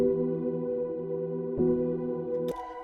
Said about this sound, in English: I loaded it up onto Analog Lab,